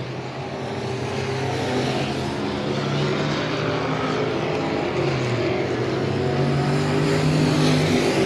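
Outlaw Street Stock race cars roaring through a heat race at Heart O' Texas Speedway, a dense, continuous engine drone that grows slightly louder as the pack passes.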